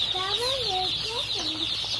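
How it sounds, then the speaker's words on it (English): High, thin peeping chirps from several small chicks, overlapping in quick wavering calls over a steady background hiss, fairly close. "these are chickens. They're babies."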